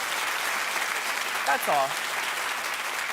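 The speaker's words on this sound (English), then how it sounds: "Clap if you know it." A talk show studio audience claps steadily and evenly throughout, while a voice briefly speaks over the applause.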